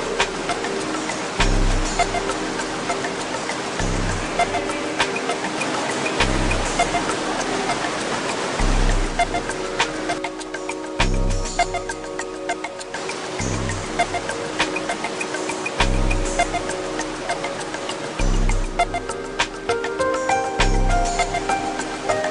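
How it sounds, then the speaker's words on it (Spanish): A strong underground river current rushing through a limestone cave in Alta Verapaz, a steady, loud broadband roar of water that fills the whole clip, with faint rhythmic low thumps underneath. "El río pasa por toda la gruta y en algunos casos hay que atravesar con la ayuda de cuerdas por lo fuerte de la corriente"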